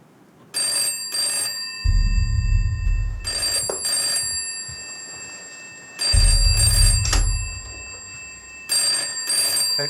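An old-fashioned telephone bell rings loud and close in repeated double bursts with short pauses, alone in a quiet room with no talk.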